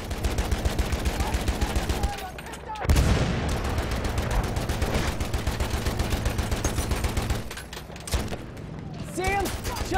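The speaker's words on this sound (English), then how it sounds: "Enemy machine gun over there!" Rapid bursts of machine gun fire in the World War I shooter Battlefield 1, mixed with other gunshots and explosions from a full round, with players shouting over the combat.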